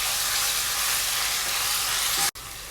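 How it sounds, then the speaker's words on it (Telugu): Garlic paste frying with onions in oil for bitter gourd curry, a dense steady sizzle that cuts off abruptly near the end, then resumes. "గార్లిక్ పేస్ట్ అంతా కూడా పచ్చివాసన పోయేంత వరకు ఫ్రై చేసుకోవాలండి"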